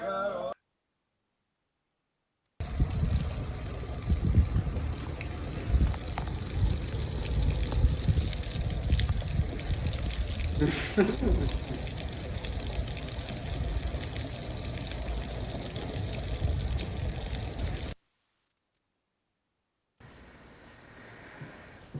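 Hot water running from a tap, a steady rushing gush that continues for about fifteen seconds between short silent gaps, with no speech over it.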